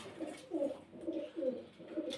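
Paired breeding pigeons coo in a steady series of soft, low, throaty calls, about five rolling phrases close by, with no voices.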